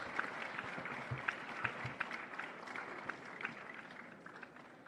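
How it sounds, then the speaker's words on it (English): Faint, distant audience applause at an award ceremony, a thin scatter of claps that stays low and fairly even throughout. "please give him a big, big round of applause."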